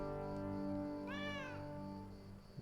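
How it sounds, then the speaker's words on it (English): A summoned pet cat in the video game Pathfinder: Kingmaker gives a single clear rising-and-falling meow midway, set over a steady layered game music drone. "Summons a pet cat."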